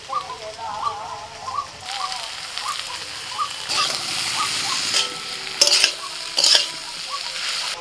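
Dimer shak greens with potatoes, red chilli powder and cumin powder are stirred in a sizzling pan, with scraping strokes and bursts of frying that swell and fade close by. A voice speaks briefly early on.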